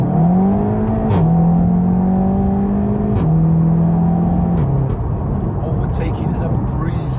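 A Seat Leon Cupra 300 with bolt-on modifications revs hard while overtaking, its engine note climbing through the gears with sharp shifts, loud and steady from inside the car.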